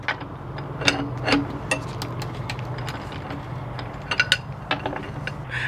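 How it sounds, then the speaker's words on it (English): A half-inch drive ratchet with an extension pipe loosens bolts on a gooseneck adapter being fitted to a toy hauler, giving irregular close clicks and ratcheting ticks. "So I've got my half inch drive ratchet with a little extension pipe here"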